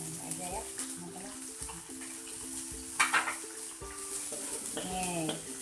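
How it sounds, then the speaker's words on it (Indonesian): Shrimp sauté in a pan for seafood noodle soup, with a low sizzle and a sharp clank of a utensil under intermittent talking. "kita masuk udangnya, kita tumis supaya kaldu udangnya keluar"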